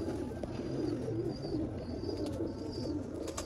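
Sialkoti pigeons of the black-faced Sheikhon wale line keep up a steady low coo, while faint thin chirps drift in and out above the even murmuring.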